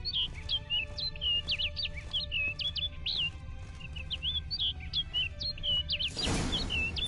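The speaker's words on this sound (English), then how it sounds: "Looks like the bird's leading me somewhere." A small bird in a video game chirps rapidly and repeatedly in quick, high tweets over a low ambient hum, ending in a short burst of fluttering noise as it flies off.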